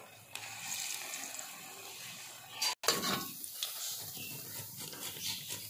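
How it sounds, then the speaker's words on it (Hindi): Pumpkin pakoras fry in hot oil, giving a steady, close hiss and crackle that runs throughout with a brief dropout partway through. "अभी कुछ पकौड़े अभी फ्राई कर रहे हैं।"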